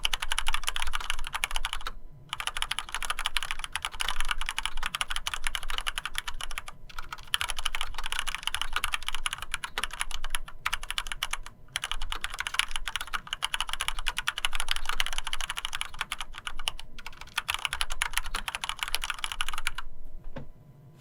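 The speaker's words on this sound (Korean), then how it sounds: "세 번째로 적축입니다." Continuous typing on a Mars Pro MK3 mechanical keyboard fitted with red linear switches: dense, steady clacking keystrokes, close and loud, with a few brief pauses and no talking.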